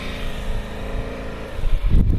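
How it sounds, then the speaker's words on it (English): A car passing on a road near the Phillip Island Grand Prix Circuit, heard as a steady engine and road drone with wind buffeting that swells louder toward the end as the vehicle draws close. "Hello, car."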